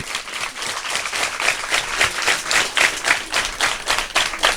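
An audience at a school donation day in Ndiéguène, Thiès, applauding a visiting delegation and its president, with brisk, dense clapping from many hands that swells and pulses rhythmically, loud and close.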